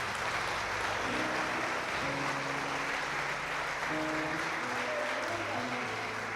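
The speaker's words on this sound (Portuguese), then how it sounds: "E aplaude o Senhor, então aplaude." A church congregation applauds throughout a Sunday service, a steady wash of many hands clapping with sustained organ or keyboard tones underneath.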